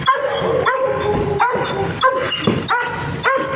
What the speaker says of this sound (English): That's a good dog.